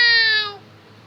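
A single drawn-out, nasal cat meow rings clearly for about half a second before cutting off, played as a sound effect in an audio comic, with a faint background hum afterward.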